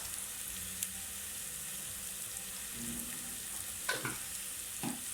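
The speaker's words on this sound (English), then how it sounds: "So I'm going to put the spices in the oil before I put the meat" Black pepper, salt and spices sizzle in hot oil in a pot for a sun-dried beef stew, a steady soft frying hiss throughout with a few brief stirring scrapes and clinks near the end.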